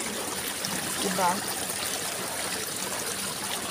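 Clear spring water runs steadily at a rural province washing spot where people rinse laundry, making a constant, full, close rush with a faint voice briefly heard beneath it.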